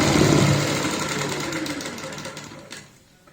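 A sewing machine stitches a palazzo pant in one steady, fairly loud whirring run that fades out after about three seconds, with no voices.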